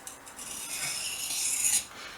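Knife strokes on a sharpening strop make a soft, continuous rasping rub that swells and fades over a couple of seconds, close by and alone.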